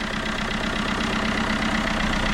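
Fiat van engine idling smoothly and steadily on all cylinders after repair, a continuous close, loud mid-to-low rumble with no talk over it.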